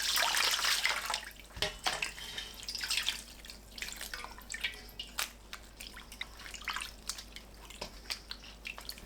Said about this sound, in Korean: 물을 넉넉하게 붓고 적셔가면서 헹궈내세요